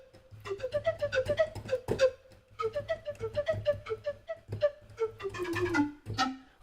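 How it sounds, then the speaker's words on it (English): Short notes from a sampled bamboo pipe in the Midiwood Black Lotus library play a quick, breathy, flute-like melody in clear phrases over a soft low drone. "So the first instrument is a simple bamboo pipe"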